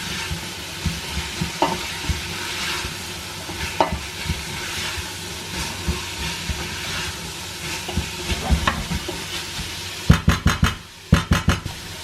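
Onion fries with chops in a pan for Cypriot kolokasi, a continuous close sizzle broken by soft stirring scrapes, ending in a few sharp clattering knocks of utensil on pan; no talk.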